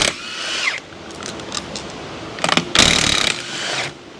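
A ratchet loosens the lug nuts on a custom wheel, with bursts of rapid clicking and whirring separated by brief pauses, close and fairly loud, and sharper rattling spins near the end.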